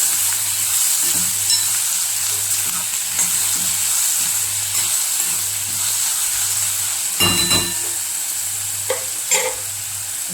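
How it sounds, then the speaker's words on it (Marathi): Tomatoes sauté in a pan for brinjal bharit, giving a steady, close sizzle and hiss. Stirring clinks and scrapes break in now and then, with a louder scrape near the end and no talking. "टोमॅटो पण व्यवस्थित परतवून घ्यायचं।"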